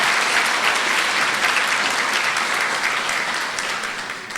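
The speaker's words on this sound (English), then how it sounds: "I think he really deserves a round of applause for this brilliant insight" Lecture audience applause honoring a professor's collaboration, a steady, dense wash of many hands clapping throughout, tapering slightly toward the end.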